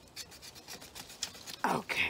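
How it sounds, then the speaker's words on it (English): The back of a knife scrapes the bark of a seedless lime or lemon branch for air layering, a series of short rasping strokes that grows louder and harsher near the end. "So I use the back of my knife and just kind of scrape it."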